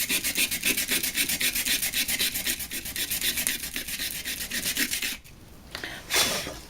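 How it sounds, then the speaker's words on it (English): Sandpaper roughs up the top and sides of a painted wooden Christmas sign in quick, rhythmic back-and-forth scratching strokes, close and steady for several seconds before pausing, then one brief final rub. "what I want to do is I just want to rough up with the sandpaper"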